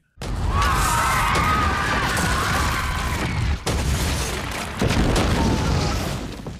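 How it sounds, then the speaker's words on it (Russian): A loud, sustained roaring blast from an explosion in Game of Thrones season 6 fills the clip, with heavy rumbling debris and crashing continuing for several seconds. "в момент ужасного взрыва"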